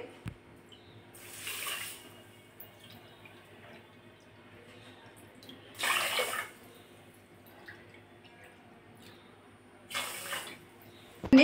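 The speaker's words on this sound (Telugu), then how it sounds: "ఇప్పుడు మనం వాటర్ 2 కప్పులున్నర వాటర్ పోసుకోవాలి" Water is poured into a pan in three short splashing bursts, at the start, middle and end, with quiet pauses between, while making wheat halwa. It sounds close and moderately loud, and no one speaks.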